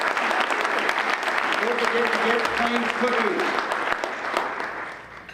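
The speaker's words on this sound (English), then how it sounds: "Give them a round of applause." A room of Rotary Club meeting members applauds outgoing board members, steady sustained clapping throughout, with a voice talking over it midway before the applause tapers off at the end.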